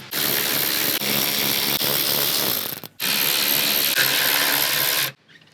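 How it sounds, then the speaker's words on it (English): A power ratchet spins out 8mm bolts while a front bumper is removed from a RAM 1500 DT pickup, giving two loud, sustained whirring runs close by, separated by a brief pause, with no one speaking. "I got a power ratchet to go a little faster."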